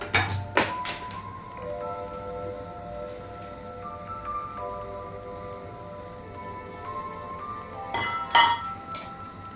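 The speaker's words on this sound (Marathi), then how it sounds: "पॅन घ्यायचा आपल्याला, मीडियम गॅसवर गरम करून घ्यायचा।" A metal pan set down on a gas stove, with sharp clinks at the start and again near the end, separated by a faint ringing tone.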